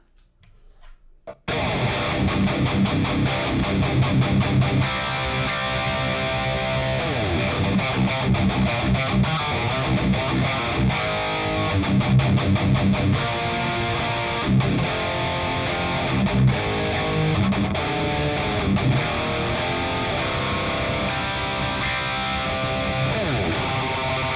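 A distorted electric guitar plays heavy riffs, loud and dense, starting abruptly after a short quiet moment and continuing steadily, with sustained chugging chords and bursts of palm-muted notes.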